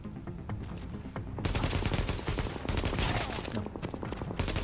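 Enemy machine-gun fire in The Division, rapid bursts of shots that swell into a loud sustained barrage, with faint talk underneath at times.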